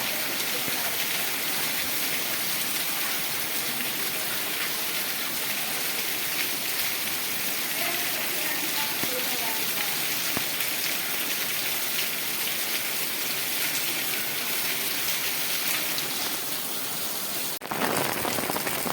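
Heavy rain pours steadily over a market street in a dense, continuous hiss, with a brief sharp knock near the end.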